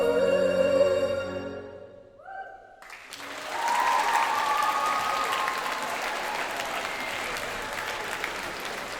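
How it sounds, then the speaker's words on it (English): Music cuts off and an audience at a school spring arts festival assembly bursts into applause for the performers, a full, steady wash of clapping that holds to the end. "Can we give one more big round of applause for all of our performers?"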